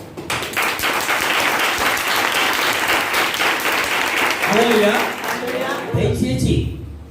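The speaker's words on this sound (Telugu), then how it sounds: "అర్థమైతే చప్పట్లు ఎట్లా కొడతారు? కొట్టండి ఒకసారి." A church congregation claps together during a sermon in a sustained, dense burst of applause lasting about six seconds, with a voice talking over the close.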